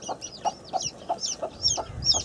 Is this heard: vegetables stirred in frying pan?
no